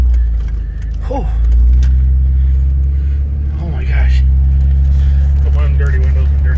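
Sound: Dodge Ram 3500 Cummins diesel truck driving

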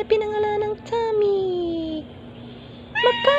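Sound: cat meowing

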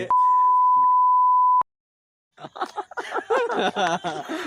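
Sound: censor beep sound effect

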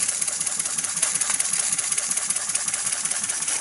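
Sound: Brimo mk2 model engine running

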